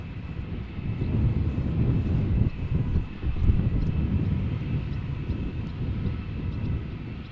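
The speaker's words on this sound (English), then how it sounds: "Now, A320 going to London Heathrow." British Airways Airbus A320-200, 21 years old, departing Amsterdam Schiphol for London Heathrow: a low, rumbling jet roar with gusty, uneven texture, fairly steady across the short span, no speech.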